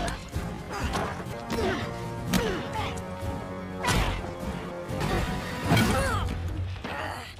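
A film fistfight plays out as loud, dense thuds and smashing blows that come every second or so, mixed with whooshes and a busy soundtrack.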